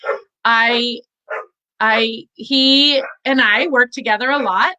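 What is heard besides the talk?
dog barking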